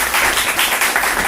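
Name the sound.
audience applause welcoming a speaker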